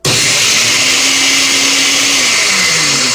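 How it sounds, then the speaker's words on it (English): A high-speed blender whirs steadily while blending Puerto Rican–style sofrito, a loud, even motor drone that runs alone from start to finish. "This is a high-speed blender."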